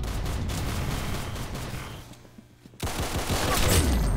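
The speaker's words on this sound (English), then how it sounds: "Very good shooting." Sustained gunfire in the Roblox shooter Arsenal, a loud, dense string of rapid shots that drops away briefly in the middle before resuming just as hard.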